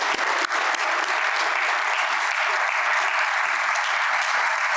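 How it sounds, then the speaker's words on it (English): An audience at a Black artist showcase bursts into a sustained round of applause, dense steady clapping filling the room from start to finish without a break. "I want to give them a round of applause"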